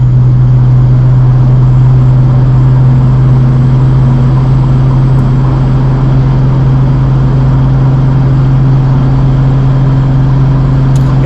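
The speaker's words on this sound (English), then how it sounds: "6th gear cruising. Perfect RPM." A 1995 Mercedes E300 turbo diesel cruises in sixth gear, its engine a loud, steady low drone with constant road and cabin rumble and no change in pace throughout.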